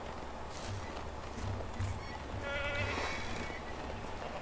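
Sheep bleating in the medieval farming game Medieval Dynasty, a couple of nasal bleats over a busy ambient game backdrop with soft footsteps, fairly close and moderately loud.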